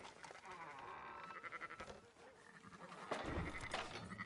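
Several sheep bleat in a busy, noisy scene in Red Dead Redemption, their calls overlapping with other background sounds and a louder burst near the end.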